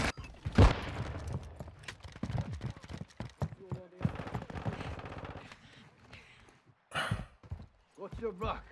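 Gunfire in Modern Warfare II, a sharp loud blast at the start, then scattered shots and impacts amid frequent excited talking.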